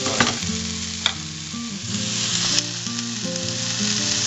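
Eggplant fries in olive oil for ratatouille, a constant crackling sizzle with a few sharp pops, close-up under a steady tonal background of music, no voices.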